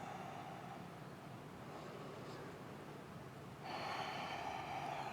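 Steady, hissing breath drawn during a held Ashtanga yoga pose, close and continuous, growing fuller and louder for the last second and a half, with no talking.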